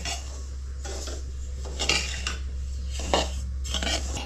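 A metal spoon scrapes and stirs semolina being dry-roasted in a pan for karanji filling, a soft rhythmic scraping repeated in short strokes over a low steady hum, with no talking.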